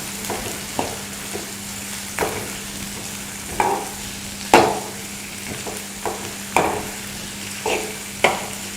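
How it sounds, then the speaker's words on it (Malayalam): Small shallots sautéing in a pan for a brinjal chutney, a low sizzle broken by repeated spatula scrapes and knocks every second or so, close and without talk. "ഒരു 10-15 ചെറിയ ഉള്ളി എടുത്തിട്ടുണ്ട്. അതൊന്ന് വഴറ്റുക."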